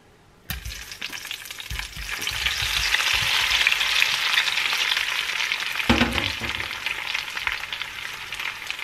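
Potatoes dropped into hot oil in a pot set off a sudden, loud, continuous frying hiss that holds steady, with a few stirring bumps and a second burst of crackle partway through, close up with no talk.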